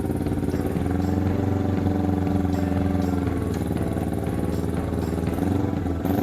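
A go-kart powered by a Kawasaki Ninja 250 engine runs steadily close by, a loud buzzing drone with rattling clatter.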